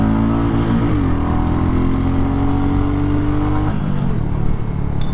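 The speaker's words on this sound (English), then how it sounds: "This is full throttle." A 2023 Royal Enfield Classic 350 Bullet single-cylinder motorcycle pulls at full throttle, its loud, steady engine note climbing in pitch, dropping briefly at a gear change, then rising again under continuous thrum.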